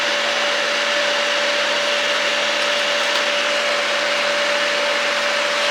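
Self-shielded flux-core arc welding on a flat fillet joint with a zigzag weave at 100 amps produces a steady, even hissing crackle. It continues without a break for the whole stretch.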